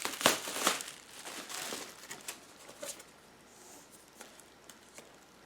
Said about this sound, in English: So, bubble wrap.